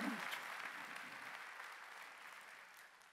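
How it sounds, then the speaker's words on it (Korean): A church congregation at a Sunday worship service applauds together, a dense wash of hand claps that starts loud and gradually tapers off over a few seconds. "박수로 하나님께 영광하다."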